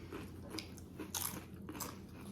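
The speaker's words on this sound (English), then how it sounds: "Can you hear how crunchy that is?" Crunchy air-fried wonton bitten several times, close and crisp, each bite a short brittle crackle over a quiet room tone.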